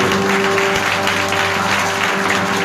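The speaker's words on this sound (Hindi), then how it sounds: "एक बार ऐसी ताली बजा लो" Church service congregation clapping together, a loud dense patter of hands that carries on steadily, with a sustained hum of music or electronics beneath.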